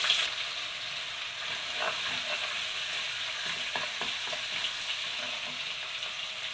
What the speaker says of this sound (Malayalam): ഒരു ടേബിൾ സ്പൂൺ വെളുത്തുള്ളി ഇഞ്ചി കഴിച്ചിട്ട് കൊടുക്കാം